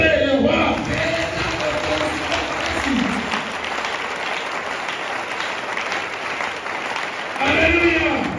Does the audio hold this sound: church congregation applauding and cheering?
yes